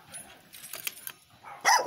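A dog barks from behind a gate, a few short yaps at moderate distance, ending in a louder burst, with a voice briefly audible nearby.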